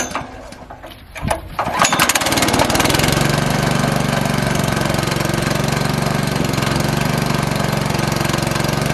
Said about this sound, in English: This is a kinetic splitter.